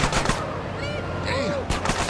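Gunfire in the video game GTA San Andreas Definitive Edition, a rapid burst of shots under a continuous loud game mix with music and whooshing effects throughout the short moment.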